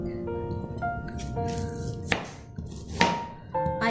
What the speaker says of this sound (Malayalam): നമുക്കിനി ഉള്ളി ചെറുതായിട്ട് അരിഞ്ഞെടുക്കാം.